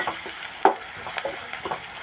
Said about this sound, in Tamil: வெங்காயம் நல்லா கண்ணாடி மாதிரி வதங்கிருச்சு.